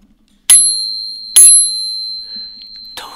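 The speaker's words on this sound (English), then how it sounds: "I love this. This is the bell." Two bright rings from a bicycle bell mounted on the shifter of an old bike, each strike sharp and close with a long ringing decay, followed by a faint third ding near the end.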